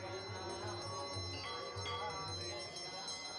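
Bells ringing at the evening puja on a ghat in Varanasi, steady and fairly close, with clear ringing tones repeating over a busy background and voices faintly audible.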